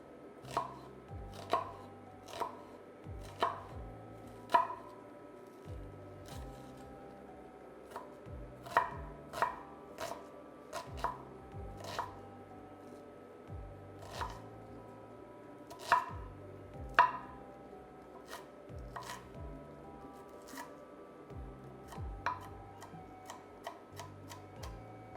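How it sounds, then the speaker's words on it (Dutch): A kitchen knife chops onions in quiet, sharp, fairly regular taps for about twenty-five seconds, with brief pauses and no one talking. "ondertussen ga ik de uien snijden"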